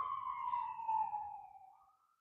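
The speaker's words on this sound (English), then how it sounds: "as I say that, the little ambulance" An ambulance siren passing outside near a street corner, a single drawn-out wail that slowly falls in pitch and fades away, with faint low rumble beneath.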